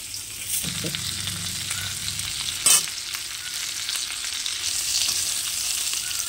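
Arum root and rohu fish curry sizzles and fries steadily in a pan, a continuous close hiss with a brief louder crackle partway through.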